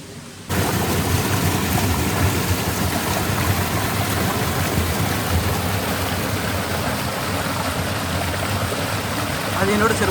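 Monsoon rain falls in a forest near the Moola Kona waterfalls, a steady close hiss of drops that sets in abruptly and holds evenly to the end.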